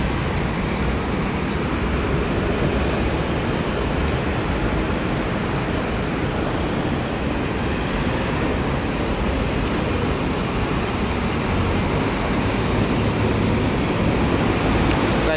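Road traffic on EDSA at North Edsa, opposite SM North near new MRT construction posts: a continuous, dense roar of vehicles, steady and moderately loud throughout with no distinct horns and no voices.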